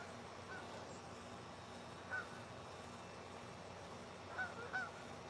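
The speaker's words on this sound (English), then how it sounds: "Can you hear them honking?" A few distant honks from geese flying overhead ring out over a quiet outdoor background, one around the middle and a couple more near the end.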